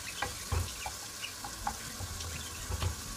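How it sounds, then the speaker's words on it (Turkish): Chopped onions sautéing in a pan with oil, giving a quiet, steady sizzle broken by a few soft clinks and stirring knocks. "Soğanlarımızı biraz kavuruyoruz."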